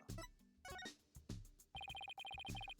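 A phone rings in Phoenix Wright: Ace Attorney – Dual Destinies, a bright electronic ringtone pulsing in rapid bursts after a few punchy game sound effects, loud and isolated with no talking.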